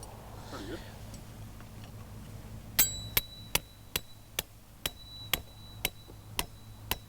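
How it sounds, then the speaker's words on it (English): Stainless steel awning pegs with pointed tips are hammered into the ground outdoors. About ten sharp, evenly spaced metallic strikes follow a quiet stretch and ring out clearly over a low background hum. "And I'll just quickly chuck some pegs in there."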